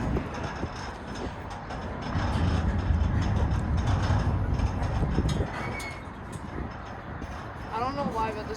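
A freight train hauled by two locomotives brakes hard, giving a steady, heavy rumble and mechanical grinding that stays close and loud for several seconds, then eases, while people talk nearby.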